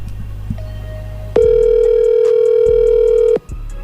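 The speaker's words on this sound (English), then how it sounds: "She ended up calling Faze Kason on stream around the time all of this went viral" A telephone tone sounds: a short faint beep, then a loud steady electronic tone held for about two seconds before cutting off, over a low background hum.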